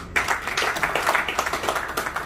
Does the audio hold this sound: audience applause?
yes